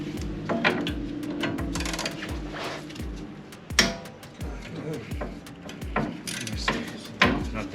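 Ratchet clicking in repeated short bursts while a brake caliper is unbolted on a 2019-2023 non-hybrid Toyota RAV4, with metallic clanks and knocks between the strokes, close and fairly loud, with no talking.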